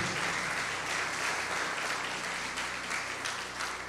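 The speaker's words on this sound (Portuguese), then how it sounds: "Vamos aplaudir o Senhor e glorificar o seu nome." A church congregation claps together in steady, sustained applause that fills the room evenly, fairly close and without pause.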